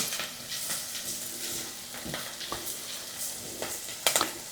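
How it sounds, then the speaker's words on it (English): Ingredients for white bean tomato soup sauteing in a pot, a steady soft sizzle with occasional stirring scrapes and light clicks throughout, no voices. "I'm going to let this saute for about 4 or 5 minutes before I add any more ingredients to it"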